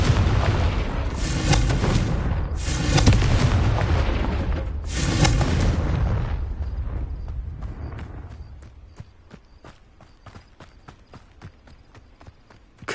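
Spell explosions from the Confringo blasting spell in Hogwarts Legacy on PS5: a few loud, broad booming bursts over a rumbling game background, followed by fading rumble and a string of quieter clicking ticks.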